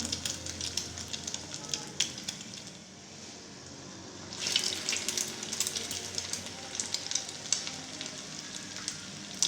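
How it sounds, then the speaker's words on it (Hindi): Chicken pieces frying in half a cup of oil in a pan over a low flame, a steady close sizzle with crackling bursts that swell partway through. "अब आधा कप मैंने ऑयल लिया है, इसमें ऐसे फ्राई कर लेंगे"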